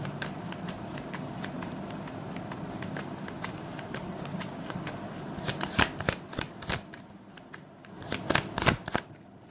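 Tarot cards are shuffled close up, a steady papery riffle and rapid flicking that builds into louder, quicker card snaps toward the end.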